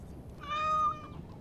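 A cat in the fantasy role-playing game Dragon Age: Origins - Awakening gives a single soft, drawn-out meow that rises and falls over a quiet background.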